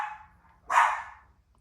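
A single dog bark, a sharp mid-pitched yelp rising out of a quiet room, close and moderately loud, preceded by a soft whine or faint vocal sound.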